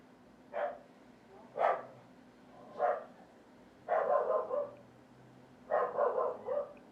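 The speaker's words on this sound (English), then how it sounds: "That's my dog." A dog barks in a series of separate outbursts, some single and some in quick doubled or tripled runs. The barks sound somewhat distant against a quiet background.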